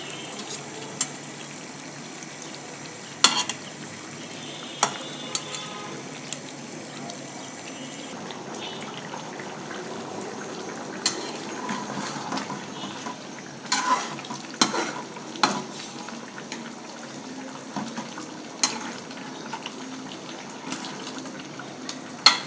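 Pangas fish frying in a pan with tomatoes and spices, stirred with a utensil: a steady close sizzle broken by irregular scraping knocks and clinks against the pan.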